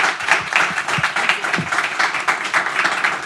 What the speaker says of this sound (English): please join me in a round of applause for the Major General for Juan Cruz